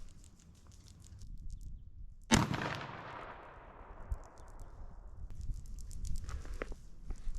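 A defensive shotgun firing a low recoil slug, Fiocchi or Federal, at an outdoor range from 75 yards: one loud, close blast with a long rolling echo that fades over several seconds, followed by faint handling noises and no talking.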